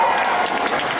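Audience applause fills a school golden anniversary celebration for Easter High School, a steady dense wash of clapping from a large crowd, loud and continuous throughout with no pauses.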